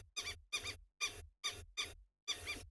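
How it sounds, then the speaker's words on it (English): Lapwings calling at dawn in the background, about six quiet, squeaky cries spaced roughly half a second apart, fairly distant and alone with no voices. "all the calls you're hearing in the background are from lapwings"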